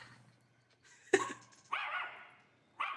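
Dogs in The Walking Dead bark in a few sharp, close yelps spaced by short pauses, rising from a quiet, low-humming background.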